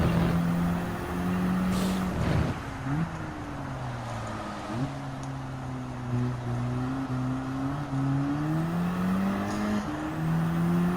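Audi TTS Coupé '14 engine in Gran Turismo 7 on a wet Tsukuba Circuit, a steady mid-pitched drone that rises and drops through gear changes, with revs climbing and shifting repeatedly over the stretch.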